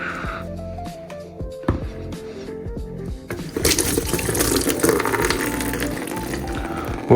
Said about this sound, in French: mon huile finisse de se vider et que ça finisse de s'égoutter également